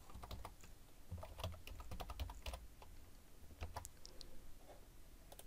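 Quiet, irregular clicking of computer keyboard keys, with short bursts and pauses as a transition tag is typed into a screen frame.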